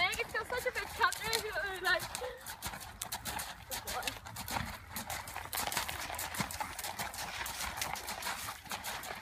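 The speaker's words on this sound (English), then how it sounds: "There's such a wee short leg, it's got such a big canter." Horse cantering with a big, level stride, steady rhythmic hoofbeats close by, while someone talks over them.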